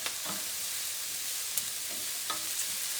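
Garlic cooks gently in a pan for cauliflower rice pilaf, producing an even, moderate sizzling hiss with a few faint stirring taps, no voices.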